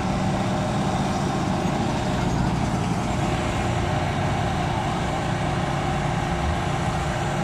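Rally cars idle and rev at the start of the 2023 Rally Maya in Mérida, a steady, continuous engine rumble under dense crowd and street noise, with no clear pass-by.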